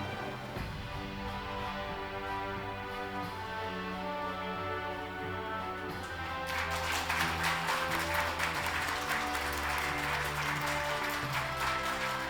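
Applause at the 2021 Samsung Ho-Am Prize award ceremony, audience clapping over sustained ceremonial music, the clapping swelling noticeably louder about halfway through and continuing to the end.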